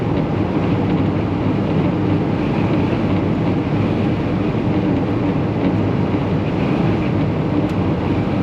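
Wind gusts buffet a Volkswagen Vanagon as it drives on the road, a steady, loud, broad roar of wind and road noise inside the van with no break and no talking.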